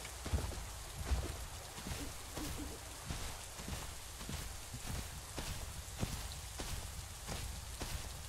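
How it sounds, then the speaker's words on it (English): Steady rain pattering through the world of a dinosaur video game with a playable Giganotosaurus, a continuous wash of drops with soft thuds that may be footsteps, moderately loud and even throughout. "Luckily, it's raining"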